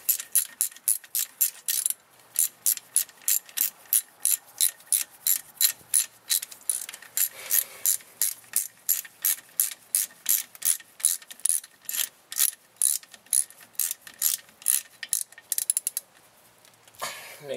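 A hand ratchet tightens brake caliper bolts on a 1999 GMC Sierra C1500 truck, sending out long, steady runs of sharp, evenly spaced pawl clicks at close range, with no talk over them.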